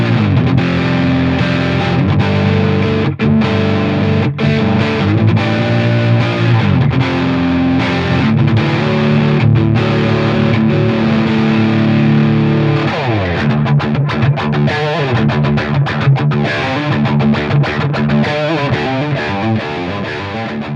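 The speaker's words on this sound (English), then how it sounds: "It's a good metal, hard rock sounding guitar." An electric guitar tuned to drop D with Sentient Nazgul pickups, played through heavy metal-style distortion, chugs low riffs and sustained chords loudly and continuously for the whole stretch, with no voice over it.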